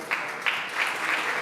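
A short burst of steady clapping from a small crowd at a UK-Ghana business forum, continuous with slight swells.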